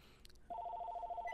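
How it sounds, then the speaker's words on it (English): A telephone starts ringing abruptly, a clear close trilling bell tone that pulses rapidly and evenly, heard over quiet background. "And the phone rings."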